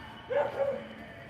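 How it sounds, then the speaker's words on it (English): Dog barks somewhere nearby on an outdoor walk, a short pair of yips or woofs at moderate volume with no talk over them. "There's a doggy."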